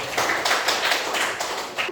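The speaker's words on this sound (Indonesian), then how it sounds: "Tepuk tangan dulu untuk kelompok 2" Brief burst of applause from a small group in a classroom session for group 2, dense overlapping claps for about two seconds with no talking.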